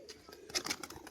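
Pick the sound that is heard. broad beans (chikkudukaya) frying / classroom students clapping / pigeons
pigeons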